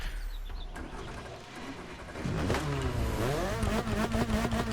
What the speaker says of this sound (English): It sounds how you expect it to, like a BMW.